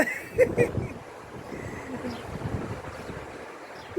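Outdoor wind gusting and rumbling across a microphone in open countryside, a steady low buffeting with a couple of brief louder bumps early on, fairly loud and continuous, with faint voice-like sounds mixed in.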